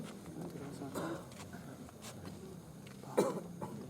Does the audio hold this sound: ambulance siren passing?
no